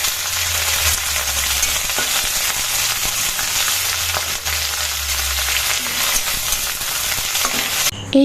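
Curry leaves fry in hot mustard oil with cumin seeds in a wok, with a loud, continuous sizzle and crackle, and occasional stirring scrapes throughout.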